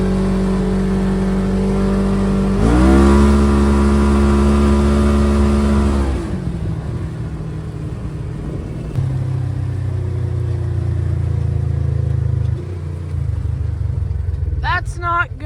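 A Razor side-by-side utility vehicle, left sitting unused in a barn all fall, runs loud and close, its engine droning steadily with a rev swell early on and shifting idle tones afterward.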